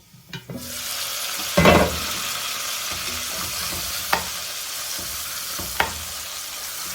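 Pork frying in butter in a pan sizzles steadily and loudly, with a few sharp stirring scrapes and clinks against the pan and no voices.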